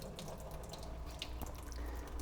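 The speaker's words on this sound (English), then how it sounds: "we're going to drain the excess water" Water draining from rinsed vegetables into a kitchen sink, a steady close splashing and trickling with scattered drips throughout.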